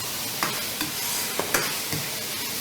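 Julienned carrot, sliced courgette and onion stir-frying over high heat in a pan, a continuous loud sizzle broken by several sharp scraping tosses of the spatula, with no voices.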